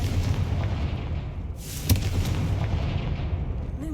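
A Confringo fire spell blasts in Hogwarts Legacy, a loud booming burst around the middle over a dense, continuous roar of game combat noise, with no talking.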